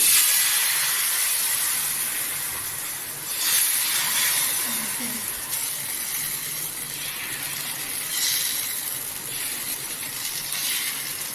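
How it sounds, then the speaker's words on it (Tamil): Spiced wheat-flour masala dosa batter hisses on a hot pan, a steady close sizzle with swelling bursts of steam and a faint scrape now and then, no voices. "இப்போ நம்ம தோசை ஊற்றிக்கலாம்"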